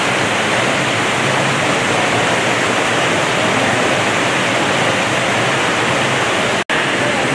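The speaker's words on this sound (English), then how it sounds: "This is above the waterfall." An indoor waterfall in a rainforest exhibit at the Audubon Aquarium of the Americas in New Orleans, a loud, steady, broad rush of falling water heard close and alone.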